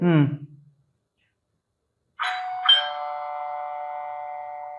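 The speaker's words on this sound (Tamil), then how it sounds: "இது calling bell, ringing of a door bell" A brief spoken word, a pause of silence, then a loud two-tone electronic doorbell chime that rings out and sustains to the end.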